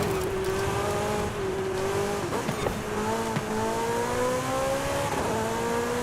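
An Audi Quattro in Forza Horizon 5 races through a cross-country event, its engine exhaust droning steadily as revs rise and dip through gear changes, with occasional tire noise.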